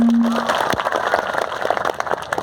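Outdoor crowd at a Birsa Munda Jayanti gathering bursts into loud clapping that builds and stays dense and steady, with no voices over it.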